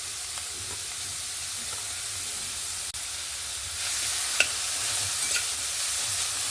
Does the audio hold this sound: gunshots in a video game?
no